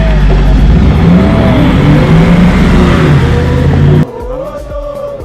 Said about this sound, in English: The car is up and running. It's really strong.